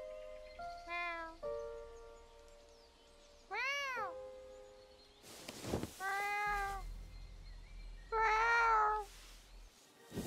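Several distinct voiced imitation meows, each a drawn-out, bending cry, come one after another with pauses between, over faint background noise.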